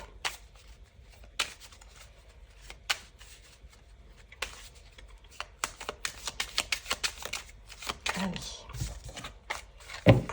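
A 32-card deck used for tarot is shuffled and cut, giving a run of crisp riffling snaps and flicks. They start sparse and grow into a dense, rapid flurry toward the end, close and loud.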